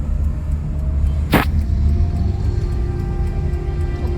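Busy road traffic in Rawalpindi during the evening rush hour forms a steady low rumble of vehicles, with one brief sharp hiss partway through and no voices.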